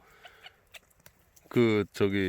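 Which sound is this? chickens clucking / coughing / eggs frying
chickens clucking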